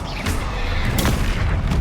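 The Bombarda explosion spell in Hogwarts Legacy goes off as a loud, dense blast with a rumbling boom and crackling debris that fills the whole moment, with sharp impacts near the start and middle.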